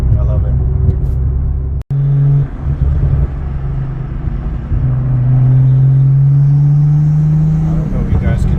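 A BMW M340i with an upgraded turbo drones steadily up close, a low exhaust rumble that rises in pitch as it revs, with a brief dropout partway through.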